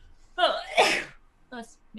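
A single sharp sneeze bursts out nearby during a tabletop role-playing session, followed by a brief spoken remark.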